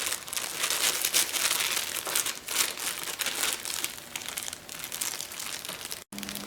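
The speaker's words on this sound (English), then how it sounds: "I want to peel back the plastic off of the top of the cake." Thin plastic film peeled back from the top of a ganache-covered cake on an acrylic ganache board, giving a continuous close crinkling and crackling that runs steadily throughout.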